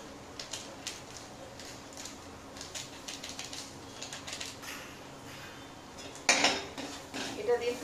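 Maggi noodles with three packets of masala stirred in a pot, light scraping and clinking of a utensil against the metal in an irregular rhythm, with a louder clatter near the end.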